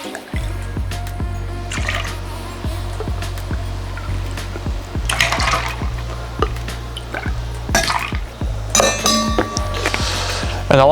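Pineapple juice is poured for a pineapple margarita, giving close, steady liquid dripping and trickling with a few light glassy clinks near the end.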